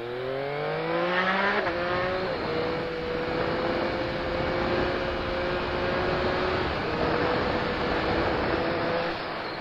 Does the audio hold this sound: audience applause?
no